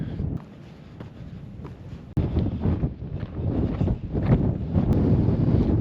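Gusty wind buffets the microphone beside a remote mountain tarn in the Carneddau, North Wales, as a loud, continuous low rumble that swells and surges for several seconds.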